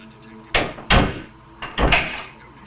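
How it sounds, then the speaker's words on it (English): A door in an interrogation room is shut and locked: two sharp, close thuds followed by two more heavy knocks and clunks, loud against a quiet room. "The detective would lock the door and leave"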